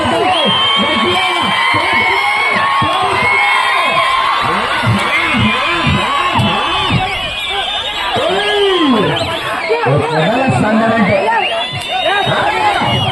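A huge village crowd at a bull cart race in Machapuram yells, whoops and cheers continuously, loud and dense, with a voice shouting over the din throughout.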